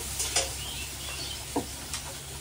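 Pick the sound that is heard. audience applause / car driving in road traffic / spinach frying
spinach frying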